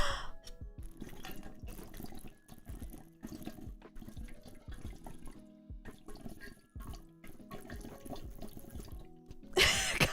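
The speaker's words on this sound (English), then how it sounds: "I don't know if you can hear me blowing bubbles into it." Bubbles blown through a straw into juice make a soft, irregular gurgling and bubbling in short bursts, fairly quiet and close, with a brief louder splash near the end.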